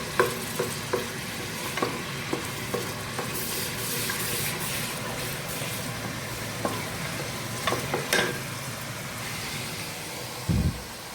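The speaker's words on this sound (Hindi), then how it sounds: "इसको को हमने थोड़ी देर फ्राई करना है" Ginger garlic paste fries in a pan for a paya dish, giving a steady close sizzle with occasional scraping stir clicks and a low thump near the end.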